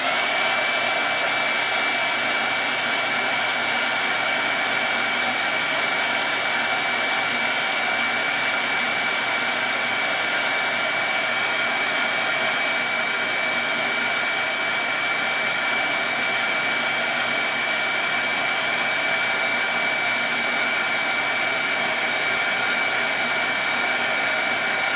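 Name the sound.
dryer blowing while drying a craft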